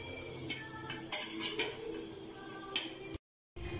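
Spoon stirring lemon juice into sabudana khichdi in a kadai, heard as faint, scattered clinks and taps of metal on metal, close but quiet, with a brief silent gap near the end.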